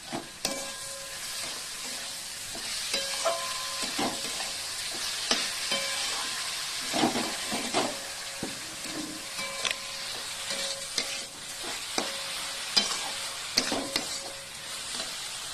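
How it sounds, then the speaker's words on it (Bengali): Grated carrot halwa with sugar is stirred in a wok, with close, irregular scrapes and clinks of the spoon over a steady soft sizzle and no talking. "চিনিটা দিয়ে দিলাম এবার এটাকে একটু নেড়ে নেবো"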